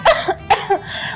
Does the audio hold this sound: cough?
yes